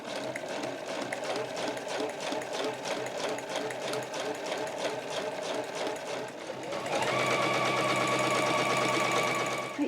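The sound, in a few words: home sewing machine stitching canvas tote bag edge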